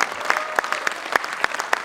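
An audience at a patriotic Independence Day poetry recital claps in a brief burst of applause, a sparse, fairly close patter of individual hand claps.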